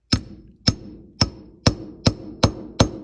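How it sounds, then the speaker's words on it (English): A hammer taps a socket onto the outer race of a rear wheel bearing on a 1971 MG Midget, giving six sharp metallic knocks spaced about half a second apart, close and clear with no talk. "we'll just gently tap around the outside edges of the top of the socket"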